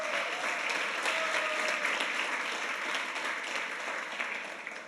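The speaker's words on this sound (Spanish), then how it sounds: "Denle un aplauso a Armando que se casó el domingo" A church audience breaks into sustained, dense applause for Armando, married the previous Sunday, the clapping full and even throughout.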